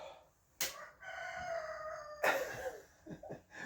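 A rooster crows loudly nearby in the rain, then crows again, with hens clucking softly between and after the calls.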